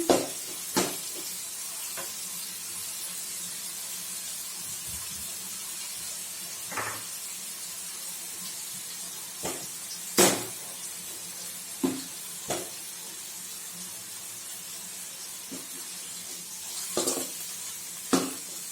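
Minced mutton frying in hot oil gives a steady, soft sizzle, broken by occasional sharp clicks and scrapes from stirring in the pan.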